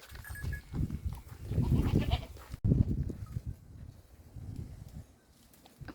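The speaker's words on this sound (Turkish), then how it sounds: "İki inatçı keçi bak" Goats bleat repeatedly nearby, several overlapping calls rising and falling, quieter toward the end.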